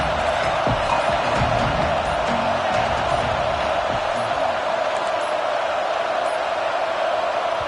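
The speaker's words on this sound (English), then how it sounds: "Third down and the crowd really getting into it." A college football stadium crowd at Auburn versus Penn State roars on third down, a loud, dense and constant wash of cheering noise throughout.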